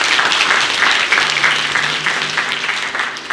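Congregation applauding a special song performance at Smyrna UMC church service: dense, steady clapping that fills the room at full strength, then gradually tapers a little toward the end.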